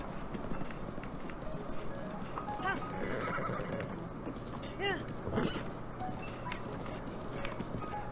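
A horse whinnies a few times over galloping hoofbeats and background music, the horse song from The Legend of Zelda: Breath of the Wild, with repeated neighs.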